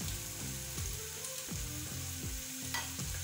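Peppers frying in melted butter in a pan for a cheesesteak roll, a steady sizzle with repeated scraping stirs and utensil knocks, close and moderately loud, no talking.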